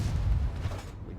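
Tank gun shot in World of Tanks from a Centurion Mk. 5/1 RAAC, a single heavy low boom that rings out and fades within a second.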